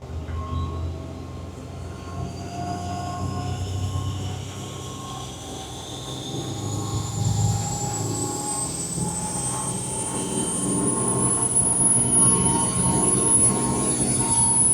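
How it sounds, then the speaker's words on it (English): A Cummins diesel engine held at wide open throttle during a test run toward its RPM limit gives a steady, loud drone that climbs gradually in pitch, with a rising whine over the top and no talk. "let's go ahead and do that wide open throttle test"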